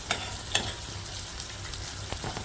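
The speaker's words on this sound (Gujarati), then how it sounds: "આ જો આદું છે, આદું નાખ્યું આપણે" Ginger sizzles in a frying pan for Rajasthani kadhi: a steady, low hiss of frying with a couple of sharp clinks early on, close and fairly quiet.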